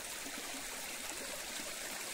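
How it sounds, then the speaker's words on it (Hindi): Water gushes steadily out of the ground in a forest, a continuous broad rushing flow at moderate distance with no voices over it. "देखिए यहाँ से पूरा पानी पूरा बहुत स्पीड से निकल रहा है"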